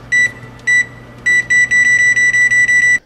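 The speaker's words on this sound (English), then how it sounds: "And set the timer for 30 minutes." Kitchen oven timer being set, sounding crisp close-up electronic beeps: two spaced single tones, then a rapid even run of about ten beeps, loud and alone with no voices.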